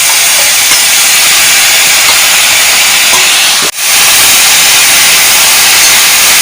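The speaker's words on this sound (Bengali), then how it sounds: "এটাও সব কিছু দিয়ে একটু সাঁতলে নেব।" Water spinach sautéing with ground spices in a hot pan gives a loud, steady sizzling hiss, close up and unbroken except for a brief dip partway through, with no talking.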